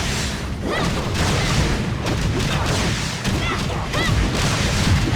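Discharge attack of the Pine Brush, a heavy fire club in the game Tower of Fantasy, a barrage of booming impacts and crackling bursts with whooshing swings, loud and continuous throughout.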